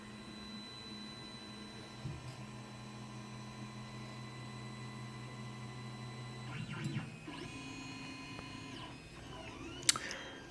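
An Ender 3 3D printer runs a print, giving a steady low motor hum with faint stepper whine and a few brief shifting tones and clicks near the end, at moderate distance.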